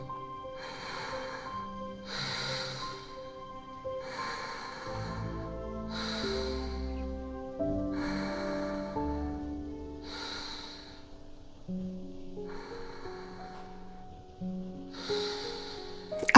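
Steady, audible breathing repeats in slow in-and-out cycles, about eight breaths in a row, close and even, while a person holds a compression of the neck and trapezius muscles with a hand pressed into a table; no one talks.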